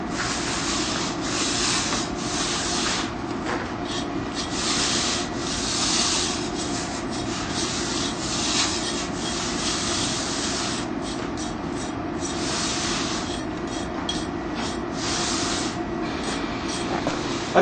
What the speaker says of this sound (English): He'll just angle down and roll it, and then either use a marginal trowel and finish it off, or use the hand trowel.